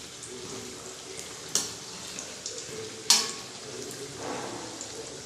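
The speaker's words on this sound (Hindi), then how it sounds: "कचौड़ी को डालने के बाद हम इसे लो टू मीडियम फ्लेम के ऊपर इसे फ्राई करेंगे।" Kachori deep-frying in hot oil on a low-medium flame, a steady soft bubbling sizzle throughout with two sharp crackling pops partway through, no voices.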